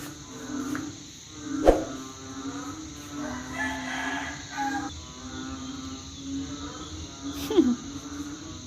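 Narrow-mouthed toads calling at night near rice fields, a steady chorus of low croaks over insect chirping, with a couple of louder, sharper calls standing out close by.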